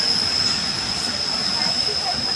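A passenger train rolls along with a steady roar of wheels on rail and a constant high whine, heard from inside the carriage.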